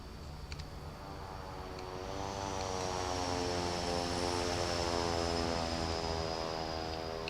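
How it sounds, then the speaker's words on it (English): The twin propeller engines of a Beechcraft Baron 58 in a flight simulator drone loudly and steadily. The pitch rises and thickens as the engines power up, and there is no talk. "I can really hear those engines. That is a loud bird from the outside."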